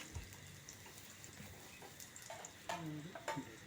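Shallots and fenugreek fry in oil in a pan for an egg curry, giving a soft steady sizzle with light stirring scrapes and small clinks.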